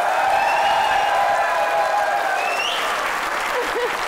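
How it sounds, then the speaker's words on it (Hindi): A studio audience on a Pakistani comedy talk show applauds in a loud, steady wash of clapping with some cheering mixed in, while a voice talks over it and faint whistle-like tones rise partway through. "वो तालियां बजाएं"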